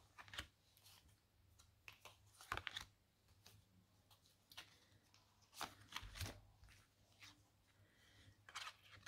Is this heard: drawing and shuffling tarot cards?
yes